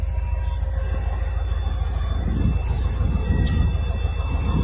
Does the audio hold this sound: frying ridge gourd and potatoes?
no